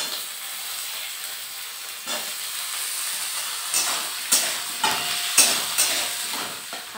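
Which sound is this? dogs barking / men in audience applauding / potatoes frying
potatoes frying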